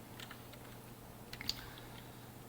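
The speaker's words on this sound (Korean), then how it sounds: "키보드에서 Shift 키를 누르고 8을 치시면 곱셈 기호인 별표가 나오겠죠" Computer keyboard keys pressed during a JavaScript lesson, a few quiet scattered clicks over a low background hum.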